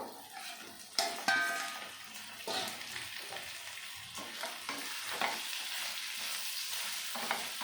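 Fried potatoes are tipped into a frying pan and stirred, with a sharp clatter at the start, then a continuous sizzle and scattered scraping strokes, fairly quiet and without speech.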